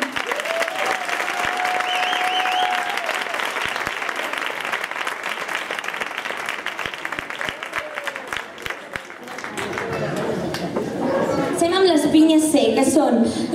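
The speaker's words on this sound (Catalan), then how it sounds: "Un fort aplaudiment." An audience at a summer camp concert claps steadily for around nine seconds, a loud even wash of applause, before it fades and a voice starts speaking.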